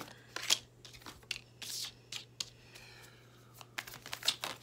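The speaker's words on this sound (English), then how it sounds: "Trying to make the shuffling not take so long." A deck of cards is shuffled in a run of quick, papery riffling bursts with short pauses between them, fairly close and quiet.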